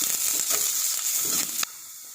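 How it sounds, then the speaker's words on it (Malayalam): Garlic, ginger and chopped shallots sautéing in hot oil, a steady bright sizzle with light stirring clicks for about a second and a half before it drops to a quieter hiss. "ഇഞ്ചി, ചുവന്നുള്ളി അരിഞ്ഞത് നമുക്ക് നന്നായിട്ടൊന്ന് വഴറ്റിയെടുക്കാം"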